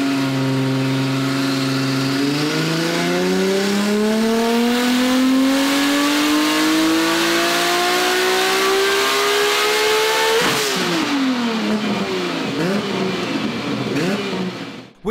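A 1000hp Nissan RB26 engine with a single throttle body revs hard on a dyno, pitch climbing steadily through a long loud pull before dropping off into burbling, crackling overrun; no talk.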